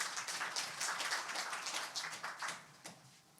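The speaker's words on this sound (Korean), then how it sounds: "네, 큰 박수 부탁드립니다." Audience at a Korean radiation industry association conference applauding a presenter, a soft, dense patter of clapping at moderate distance, lasting about three seconds and fading at the end, with no voices.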